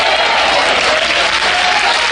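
A church congregation applauds during a Holy Week service, a dense, steady wash of many hands clapping close and loud with no pauses.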